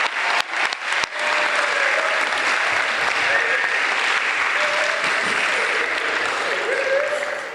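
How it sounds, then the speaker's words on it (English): Sustained audience applause and cheering fill a school assembly hall, dense and steady from near the start, with a few sharper claps at the outset and no speech over it. "So a big round of applause for all those people I mentioned."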